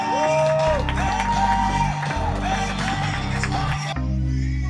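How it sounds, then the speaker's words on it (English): Crowd applause and cheering for the UNC Pembroke women's soccer class of 2019 on Senior Day, a loud, steady roar with tonal music running through it, cutting off sharply near the end. "one more big round of applause for UNC Pembroke Soccer, class of 2019"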